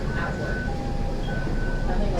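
An MBTA Green Line subway train in Boston runs along with a steady rumble and faint squeals, while an automated voice announcement plays over the car noise.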